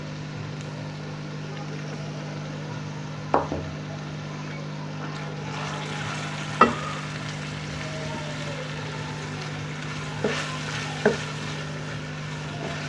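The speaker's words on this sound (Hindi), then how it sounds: "और इसे मीडियम फ्लेम पे हमने 10 मिनट तक भूनना है।" Minced keema fries in a pan over a medium flame, a soft, steady sizzle over a low background hum, broken by a few sharp spoon knocks.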